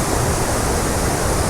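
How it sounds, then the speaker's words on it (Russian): Iguazu waterfall in Argentina, a dense, loud, continuous roar of rushing water heard up close, with no voices. "Смотрите, какой слив воды идет."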